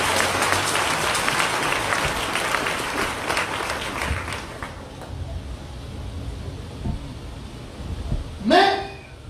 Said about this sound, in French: Est-ce qu'on peut donc acclamer pour le Seigneur?